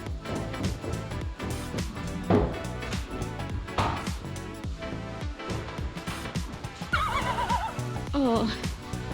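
Horses neigh and whinny repeatedly inside a barn at evening feeding time, loud rising-and-falling calls over shuffling, hoof clops and general stable noise, with some talking mixed in.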